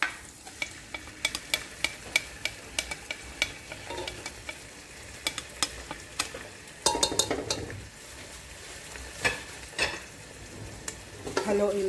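Corned beef and noodles being stirred in a frying pan, with a steady sizzle under repeated sharp clicks and scrapes of a utensil against the pan, plus occasional louder clatters.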